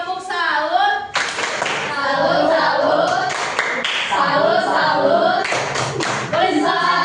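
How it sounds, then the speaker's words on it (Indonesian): Schoolchildren in a junior high classroom perform a rhythmic 'tepuk salut' clapping cheer for a classmate, sharp bursts of group claps mixed with chanting voices, loud and close, with short gaps between the clap patterns. "gue coba tepuk salut lagi buat Grace"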